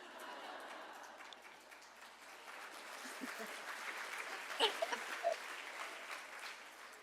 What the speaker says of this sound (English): They're clapping for you, Mom.